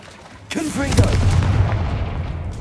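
A Confringo spell blast in Hogwarts Legacy erupts with a sudden loud boom, then a rumbling, crackling roar that lingers for about two seconds without fading away.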